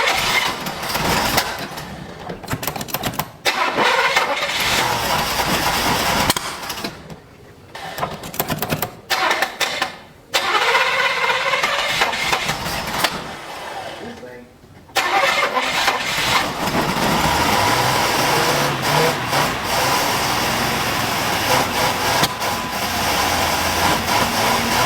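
An old sports car's engine is started with a screwdriver, cranking roughly in several stuttering bursts with brief gaps, then catches and settles into a steady, loud, continuous idle.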